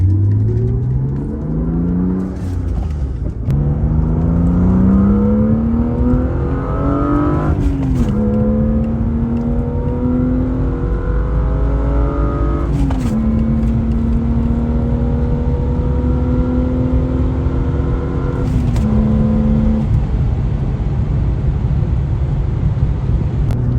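A BMW E36 M3's engine pulls hard through several gears while driving, each rising whine cut by a brief dip at the shift, loud and close with no talk over it.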